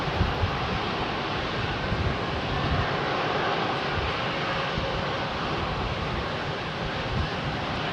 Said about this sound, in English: Ian Snelling, that Avianca was the last in on the northern runway.